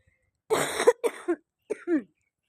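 Several harsh coughs from a persistent cough that medicine has not eased, in quick bursts, a long first fit followed by shorter ones, close and fairly loud with no talking.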